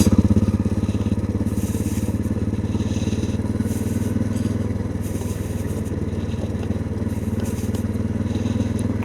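A dirt bike engine chugs at low speed in second gear on a trail, a steady close thrum with gravelly crunching and wind noise layered over it throughout.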